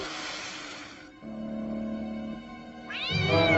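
A small cat meows in a few drawn-out, wavering calls, close by, with a rising then falling pitch; no one speaks.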